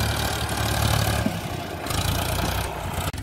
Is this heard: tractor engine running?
yes